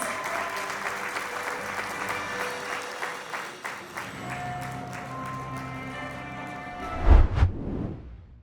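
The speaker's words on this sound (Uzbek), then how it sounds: "Vatan kafedrasi professori Dilbar Malikovaga olqishlaringiz" An audience at a cultural programme applauds an honoured professor with sustained, dense clapping that fades toward the end, followed by a dull thump.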